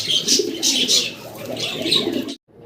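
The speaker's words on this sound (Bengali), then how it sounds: "ব্ল্যাক কালারের এক জোড়া ড্যানিশ কবুতর" Black Danish pigeons coo softly and repeatedly at close range, low throaty calls overlapping with a few higher chirps, then the sound cuts off abruptly.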